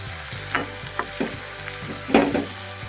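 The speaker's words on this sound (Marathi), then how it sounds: "मासे टाकून झाले आहेत सगळे त्याच्यात कालून घेऊ" Fish frying and being stirred in a pan, a steady sizzle broken by repeated scraping stirs with a louder burst near the end, close by and with no talking.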